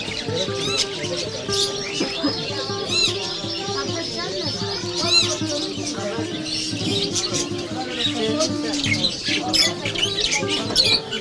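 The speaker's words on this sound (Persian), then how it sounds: "در این کوچه پرنده هزاران دانه پرنده وجود داره و انواع و اقسام مختلف پرنده ها در اینجا هستند" Many caged birds of various kinds squawk, chirp and tweet continuously in a narrow bird-market alley in Kabul, a dense, busy chorus close by, with people talking under it.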